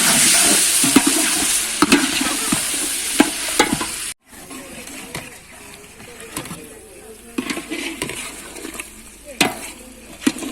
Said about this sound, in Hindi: तो चिकन मेरा फ्राई हो चुका है। अभी मैं डालने लगी हूँ टमाटर।